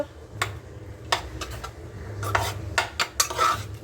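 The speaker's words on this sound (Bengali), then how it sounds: "তো এবার এগুলোকে ঘেটে দেবো, টমেটোটাকেও ঘেটে দেবো।" Cooked ingredients and tomato for ghugni being mashed in a pan, heard as a series of close, sharp utensil knocks and scrapes in irregular bursts over a low steady background hum, with no voices.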